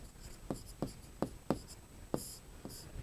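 Pen or chalk writing out a math solution by hand during a Class 8 squares and square roots lesson, with six or seven short scratchy strokes in quick succession, quiet and close.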